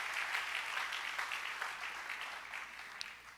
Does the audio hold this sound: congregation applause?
yes